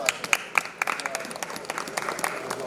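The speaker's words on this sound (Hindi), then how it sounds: "तालियां बजती रहनी चाहिए" A church congregation at a bishop ordination and prayer meeting claps in scattered, uneven bursts. Faint talk sits under the sparse applause, which stays moderately quiet.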